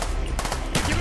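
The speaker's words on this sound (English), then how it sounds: "Uzi fires a lot." Uzi submachine gun in Call of Duty Black Ops firing in quick bursts, a dense rattle of rapid shots partly blended with game noise, moderately loud.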